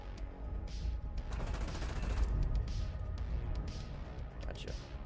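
Cannon fire from a Gripen jet in a flight combat game comes in a rapid burst of crackling shots over a steady engine drone, then fades back to the drone.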